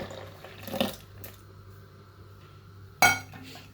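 Chia seeds and raisins dropped into a glass, giving a couple of light clinks and soft patters, the sharpest near the end, otherwise quiet.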